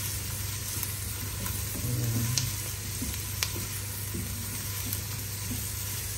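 Onions browning in a pan for pork menudo with chicken liver give a steady, moderate sizzle with a constant low background hum, punctuated by a few soft clicks of stirring, no speech.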